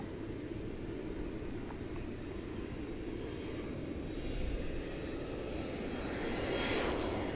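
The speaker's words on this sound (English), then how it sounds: "Here comes the Air France across the runway." An Air France airliner crosses the runway at Seoul Incheon Airport, heard from a distance as a steady, broad engine roar that swells slightly toward the end.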